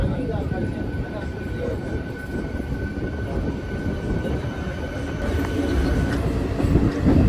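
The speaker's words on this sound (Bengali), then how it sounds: "ট্রেনটা একটু লেটে ছাড়লো আজকে।" Inside a local train running from Howrah to Digha, a continuous loud rumble and rattle of the moving carriages fills the whole stretch, swelling slightly toward the end.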